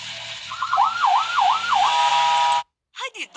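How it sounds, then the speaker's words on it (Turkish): A police car siren wails loudly, sweeping up and down in a steady repeating cycle, then cuts off abruptly before a short burst of other sound. "Polis arabası."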